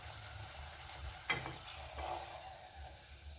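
An aloo and carrot snack fries in oil in a kadai, giving off a soft, steady sizzle broken by a couple of brief utensil clinks.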